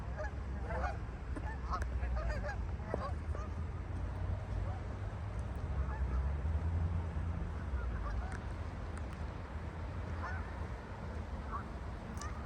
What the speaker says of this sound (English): Bye geese.